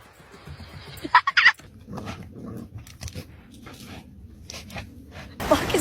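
A pet dog at home gives a few sharp barks and yelps close by, with bursts of excited noise and a loud burst at the end.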